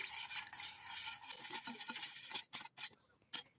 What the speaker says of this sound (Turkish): Önce güzel bir şekilde çırpıyorum.